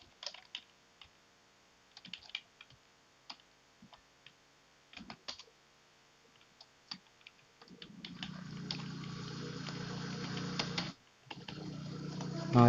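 Scattered clicks from a computer keyboard while C program code is typed, faint and irregular at first, then masked by a louder steady hum in the second half.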